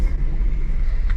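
A Honda kei car's engine hums in a low, steady rumble through a short stretch of a U-turn, close and continuous with no voices over it.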